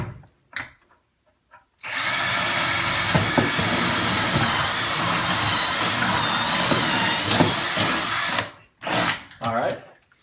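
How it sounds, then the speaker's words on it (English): A power drill whirs loudly and steadily for several seconds, drilling into a kitchen cabinet corner to mount LED strip lighting, preceded and followed by brief clunks and handling noises close by. "From the other side, you can drill in from this corner."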